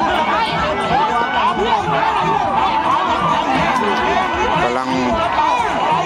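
Dense crowd noise from spectators at a traditional end-of-Buddhist-Lent longboat race on the Mekong at Chanot, Mukdahan, with constant chatter and cheering voices filling the scene while a commentator talks over it.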